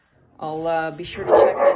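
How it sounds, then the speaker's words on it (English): A dog barks and yips close by, a few sharp bursts overlapping with a person speaking indoors. "Sorry about my dog."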